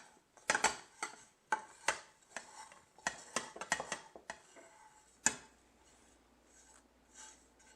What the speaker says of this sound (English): I'm just going to put all those ingredients into a bowl.